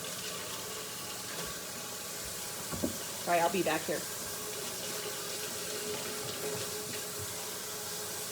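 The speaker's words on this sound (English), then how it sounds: "So I'm gonna get my water going." Water from a kitchen tap runs steadily as bread dough ingredients are readied, a soft continuous hiss through the whole stretch with a brief louder splash partway, while a person speaks over it.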